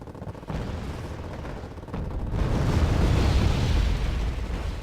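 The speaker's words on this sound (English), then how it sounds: "Oh dear, bomb comes in." A bomb hits in Wargame Red Dragon, a wartime strategy game. Low booming rumble swells and hangs heavily with crackling debris, loud and sustained after a couple of earlier thuds.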